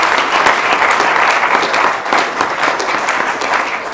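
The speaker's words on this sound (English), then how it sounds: "Can I just ask everyone to give the Secretary General and Andreas a round of applause" Sustained applause from a conference audience at the launch of OECD PISA 2015 results, dense and steady clapping filling the hall at an even level throughout.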